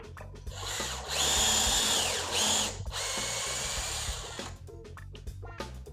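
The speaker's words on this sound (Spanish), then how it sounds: "Y ahora lo que tenemos que hacer es perforar." A power drill bores through a drill guide fixed in place, whining loudly with a steady high pitch that rises and dips as the bit bites, then stops into short clicks and handling noise.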